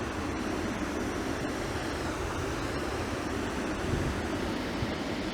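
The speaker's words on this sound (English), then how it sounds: "Listen to the water." Water flowing past big old logs near a mill established in 1823, a constant, broad rushing roar at even strength, with no voices.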